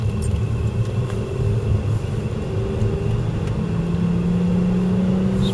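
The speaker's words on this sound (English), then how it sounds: "stay behind him a bit so you can accelerate, so people can hear the engines all right." MG ZT 190 saloon accelerating on the road, a loud continuous engine drone with rising low tones building steadily from a close in-car position, no talking.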